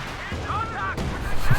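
Howitzer fire in a World War II strategy game booms low and heavy under a commentator's voice, with a deep thump landing at the very end.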